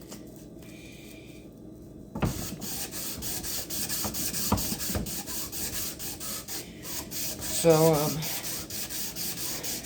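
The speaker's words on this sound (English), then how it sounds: "you have no idea why I'm sanding this" Sandpaper of 220 grit, wrapped tight, rubs back and forth over the metal of a custom axe in steady, close scraping strokes that swell louder partway through, with brief speech at the start.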